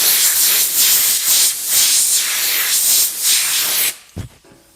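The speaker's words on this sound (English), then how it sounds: "we're gonna hit it with some compressed air" Bursts of compressed air hiss loudly across a bare metal auto body panel being prepped for filler, several pulsing blasts in a row, then it cuts off sharply and a brief low thump and faint rattle follow.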